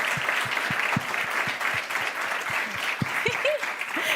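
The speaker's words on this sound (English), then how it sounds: "we're going to give them a huge round of applause" A live audience at a main-stage startup event claps steadily in a dense, even wash of applause, with a few low voice-like murmurs underneath and brief tonal sounds near the end.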